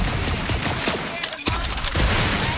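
Gunfire in the Guardians of the Galaxy video game, a dense, continuous spray of shots with a brief dip partway through, heard loud and close with game voices mixed in.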